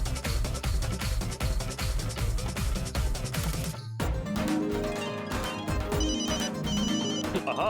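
A phone ringtone plays loudly in a Hindi TV sitcom scene, starting over dense, rhythmic background music and then continuing as a clear repeating melodic tone after the music cuts out.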